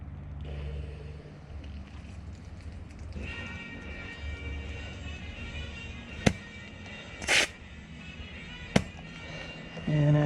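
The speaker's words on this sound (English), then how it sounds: "with just the inner tube filled with air, it's beaded the tire" A motorcycle tire bead seating on the rim with a Tubliss tube system under an air compressor's 100 psi blast: steady rushing air hiss punctuated by three sharp, loud pops.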